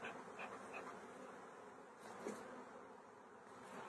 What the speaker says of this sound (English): we've got plenty of bees down at the bottom, plenty at the top